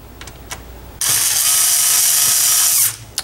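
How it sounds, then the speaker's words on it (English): A screwdriver tightens the hard drive screws inside a DVR security recorder: after a few faint clicks, a loud, continuous ratcheting whir runs for nearly two seconds, then stops, leaving quiet taps. "you can use your screwdriver again just to tighten these screws down"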